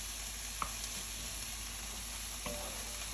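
An Italian dish simmers in a pan with a steady, even sizzle and bubbling throughout, broken by a couple of faint clicks, with no voices.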